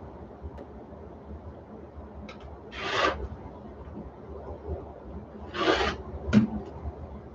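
Fabric is trimmed off the bottom of a sewn diaper bag, with two short, soft rasping cuts a few seconds apart over quiet room hiss.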